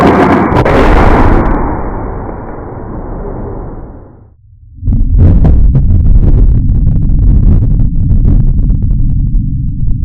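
A French trade gun, the Fusil de Chasse flintlock, fired outdoors, giving a loud, close blast that rolls into a long, fading boom, followed by a rushing, crackling tail of noise.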